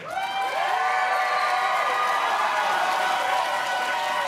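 A Star Wars fan-convention panel audience claps and cheers loudly, a dense, steady roar of hands with whoops rising over it, sustained throughout.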